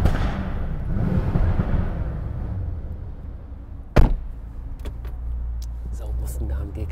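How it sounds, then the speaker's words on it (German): A Brabus Rocket 900, a Mercedes-AMG based car with 900 hp, roars with a deep, loud engine rumble that fades, then one sharp bang like a backfire and a few quieter crackles follow. "So muss ein AMG klingen."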